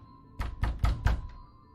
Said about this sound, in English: I was interrupted by a knock on the door to my apartment